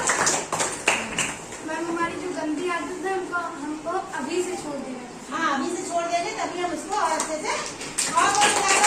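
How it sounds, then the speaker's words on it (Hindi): A group of children claps in scattered bursts in a classroom, irregular hand claps mixed with lively kids' voices and chatter. "चोरी करना बुरी बना है और चीज बढ़िया है, ताली बजा दो।"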